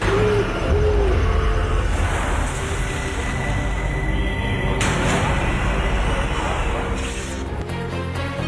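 An owl hoots loudly and close by, with a couple of clear hoots near the start, followed by a steady background rumble.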